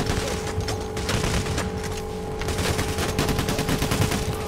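Dense, loud gunfire in the heist video game Payday The Heist: overlapping rapid bursts of shots and fusillades run without pause for several seconds, with no voices over them.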